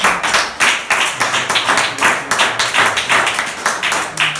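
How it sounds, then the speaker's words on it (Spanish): A church congregation clapping in rhythm during a Spanish-language sermon, loud, close, regular beats repeating about twice a second with no talking. "Ese aplauso sea para Jesús."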